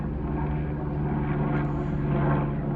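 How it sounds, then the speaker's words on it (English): A helicopter passes overhead with a steady, loud droning rotor and engine hum that holds constant throughout, with no talk. "helicopter going over"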